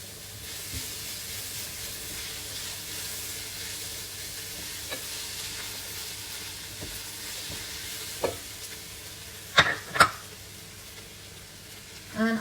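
Green chilies sizzle in a frying pan for a chicken biryani, a steady bright hiss of hot oil running throughout, with a few sharp clinks of a utensil stirring near the end.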